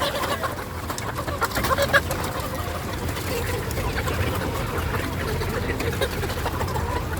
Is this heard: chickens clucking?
yes